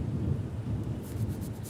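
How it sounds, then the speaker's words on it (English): Low thunder rumbles steadily through a thunderstorm, heard from indoors with a faint hiss of rain. No one speaks. "It's just a thunderstorm"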